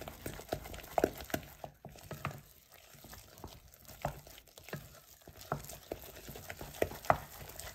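Choux dough being stirred in a saucepan over high heat, with soft irregular scrapes and knocks of a spoon against the pan and a faint low bubbling underneath, close and fairly quiet.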